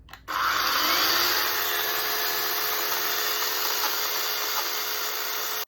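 A Procraft PKA42Li cordless battery chainsaw, 20 V with a 4 Ah battery, switches on with a sharp start and then whines steadily at high speed, close and loud, before cutting off abruptly.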